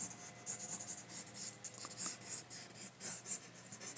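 A pencil scratches and rubs across paper in quick, rhythmic strokes while a comic figure is sketched, faint and close, with no talking.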